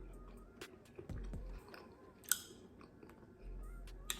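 Crunchy BBQ air-fried chicken wing being chewed close up, with several sharp crisp bites and crunches spaced irregularly over a few seconds in a quiet room.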